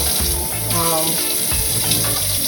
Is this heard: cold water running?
yes